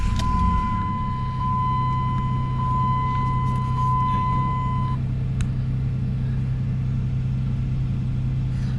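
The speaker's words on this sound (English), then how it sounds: "let me fire this guy up here real quick" A 2007 Jeep Liberty Sport engine idling steadily with a low, even rumble after starting. A brief tonal beep sounds during the first few seconds, and there is no talking.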